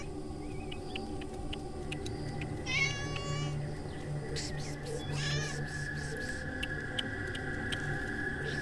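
A tabby cat meows twice in short, clear mews over a quiet, faintly humming indoor background.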